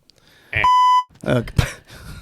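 A short electronic wrong-answer buzzer tone, a single steady beep of under half a second, is followed by people talking.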